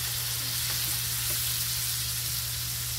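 Tofu sisig fries in a pan with a continuous, even sizzle and hiss, close and steady throughout, over a low background hum.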